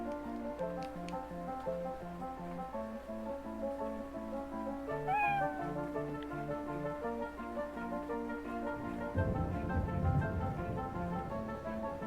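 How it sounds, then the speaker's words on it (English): Game cat in the role-playing game Rise of the Third Power meows once, a short rising call standing out over steady background music, with no talking. "Well, there you go, you can pet the cat."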